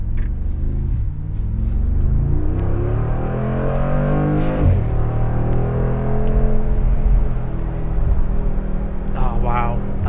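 A Mercedes-AMG V8 in Sport Plus mode rumbles deeply and close by, its note swelling and climbing as it revs, with a voice talking over it.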